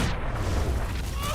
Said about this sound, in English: Spider bombs!